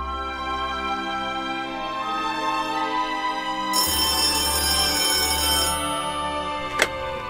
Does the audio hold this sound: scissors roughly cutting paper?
no